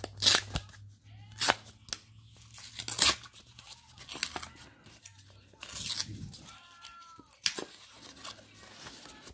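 A first edition Pokemon card pack is torn open close up in short bursts of sharp foil ripping and crinkling between quiet pauses, with faint talk in the background.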